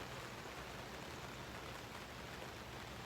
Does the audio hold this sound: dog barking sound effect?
no